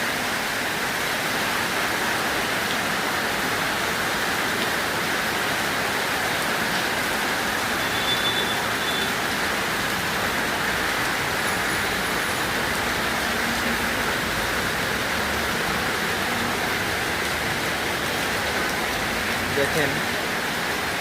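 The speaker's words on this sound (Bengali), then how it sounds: "বৃষ্টি কী পরিমাণ হচ্ছে।" Heavy rain pours onto a main road in the Gulshan–Banani area, a dense, steady hiss that stays loud and unbroken throughout, with faint talk beneath it.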